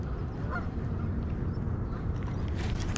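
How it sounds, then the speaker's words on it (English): Goose-like honking from a duck, faint and partly buried under steady broadband noise at an urban waterside corner, with a few brief honk calls over about three seconds and no talk. "Freaking duck, I didn't even see you there."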